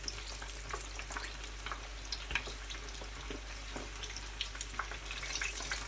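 Chicken pieces frying in hot oil over a medium flame, giving a steady close sizzle with scattered small pops and crackles throughout.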